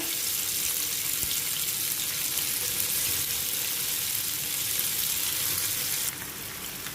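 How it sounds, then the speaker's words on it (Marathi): Paneer shallow frying in hot oil over a low flame, a dense, even sizzle that holds steady close by and drops slightly in level near the end. "आता आपण हे पनीर आहे ना त्यामध्ये थोडे शॅलो फ्राय करून घेऊया"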